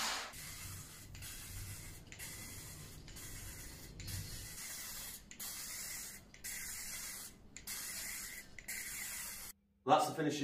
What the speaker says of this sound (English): For the rest of the car, I added two coats of spray varnish,